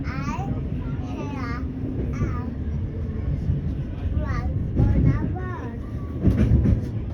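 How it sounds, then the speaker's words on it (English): A Siemens Nexas suburban train rolls along its tracks in Melbourne with a rumbling, rhythmic low hum, while a child chatters throughout over the running noise. "The train's going on tracks."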